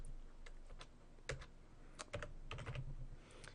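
Computer keyboard keys tapped to enter a value, a quick irregular run of close, faint clicks with no talk.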